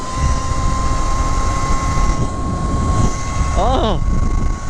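A Kooz 72V electric bike tears along at about 54 mph, steady rushing wind roar and a high, constant motor whine up close, with a brief exclaimed voice.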